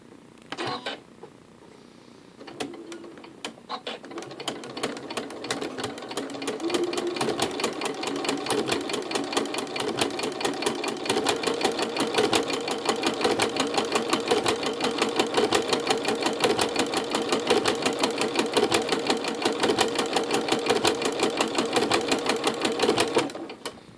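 A Janome Skyline S7/S9 sewing machine fitted with a ruffler foot stitches steadily, its rapid mechanical rattle running loud and continuous after a brief quieter start, with no voices.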